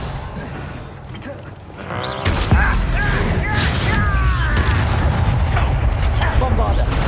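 An explosive Bombarda spell cast in the Hogwarts Legacy game lands as a loud boom about two seconds in, then a dense rumbling roar of debris and combat noise carries on to the end, with a voice in the mix.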